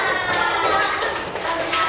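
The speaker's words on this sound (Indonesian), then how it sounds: "Tepuk tangan." Children in a classroom clap together in a brief, steady patter, close and fairly loud, with their voices mixed in throughout.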